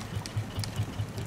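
A boat motor in the video game Raft runs with a low, steady rhythmic chugging, faint and pulsing evenly with no other sounds.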